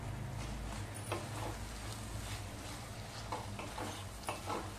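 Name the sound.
adding bean pods to vegetables cooking in a pan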